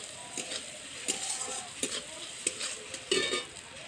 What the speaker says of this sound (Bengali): আর দেব হলুদের গুঁড়ো আর 1 চামচ লঙ্কার গুঁড়ো দিয়ে এটাকে ভালো করে কষিয়ে নেব।